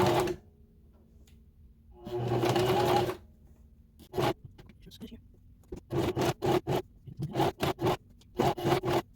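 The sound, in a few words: sewing machine stitching a zipper pouch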